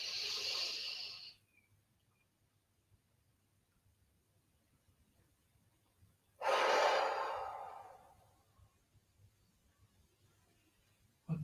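Slow, deep breaths are taken during a seaside sophrology relaxation exercise: a hissing exhale, a long quiet pause, then a full airy breath fading out, close and alone.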